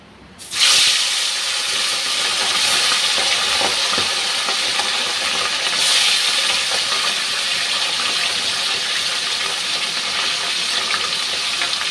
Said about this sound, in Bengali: আমি মাছগুলো ভেজে নেব।